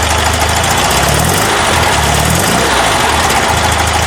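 A Porsche 912 engine fitted with Dellorto DRLA carburetors runs at a steady, loud idle, its close, even rumble pulsing without a break for about four seconds, with no talking.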